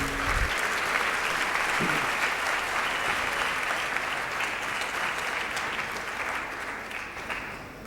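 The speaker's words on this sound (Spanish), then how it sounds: "Quiero que recibamos con un fuerte aplauso a la doctora Anaí Sandoval Gil" Sustained applause from a dental conference audience welcoming a speaker, a full, even wash of many clapping hands that tapers slightly toward the end.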